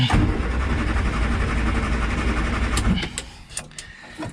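A 1967 Morris Minor engine running on brake cleaner, revving in a steady rough drone that fades and sputters out near the end, followed by a few faint clinks.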